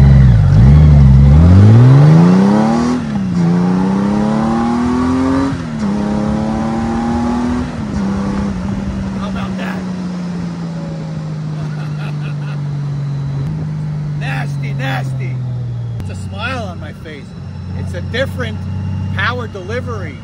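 A Honda GoldWing motorcycle fitted with an aftermarket Ramus exhaust revs loudly up close, its engine pitch climbing and falling across several throttle blips before settling into a steady drone.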